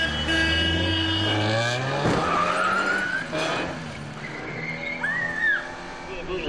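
Tires squeal as a car skids during a staged crash demonstration, a loud drawn-out screech with engine noise rising and falling over several seconds, close by.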